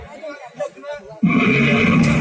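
A man imitates a horse's neigh with his voice during a comic Sundanese calung performance, a loud sustained whinnying cry that bursts in after a brief stretch of quieter sounds.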